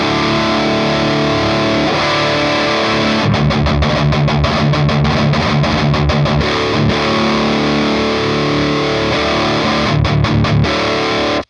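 Electric guitar played through an Orange Gain Baby 100 solid-state amp set for high gain, a loud, saturated, heavily distorted tone with chugging palm-muted rhythms and sustained chords, no voices.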